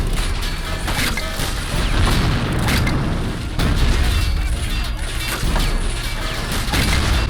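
Anti-tank gun fire and explosions in the Men of War World War II game rumble continuously, with repeated loud booms and crashing impacts layered over dense battle noise.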